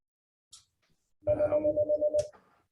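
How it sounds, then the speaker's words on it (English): A telephone rings during a tourism business district meeting, a steady repeating electronic ring with a regular pulsing rhythm for about a second, preceded and followed by faint brief noises, close and moderately loud. "that's just gonna be ringing here for a second"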